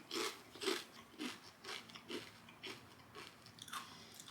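Crisp bites into Dutch Crunch kettle-style potato chips, vinegar-flavored, giving a series of sharp crunches at an uneven chewing rhythm, close and fairly quiet, with no talking.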